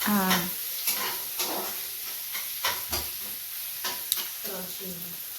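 Onion frying in a pan while being cooked until just soft, not golden, for egg Maggi noodles; a steady low sizzle runs throughout with occasional stirring scrapes and people talking nearby.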